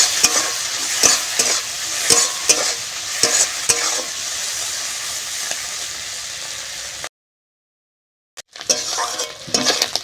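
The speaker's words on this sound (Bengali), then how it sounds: "চিংড়ি মাছগুলো ভাজা হয়ে গেছে," Prawns frying in hot oil, a close, steady sizzle with occasional clinks of a spatula against the pan, then a brief silence before the frying resumes.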